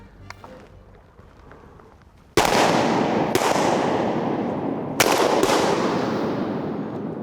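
Shotgun shots while duck hunting in flooded timber: four loud, close blasts in two quick pairs, each trailing off with a long echoing decay among the trees.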